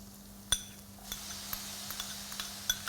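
Chopped tomatoes are stirred into mushrooms frying in a pan, with a faint sizzle beneath a few light utensil scrapes and clinks against the cookware.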